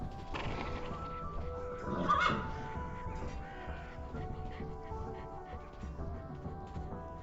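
A horse whinnies in the VR video game Shadow Legend, one fairly faint neigh rising over a steady background bed along with soft hoof-like clopping and ambient game noise.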